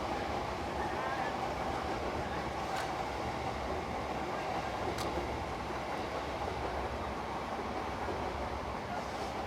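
A train passes at night at Ochanomizu in Tokyo, a faint, steady rumble with some clatter over the whole span, with occasional faint higher clicks.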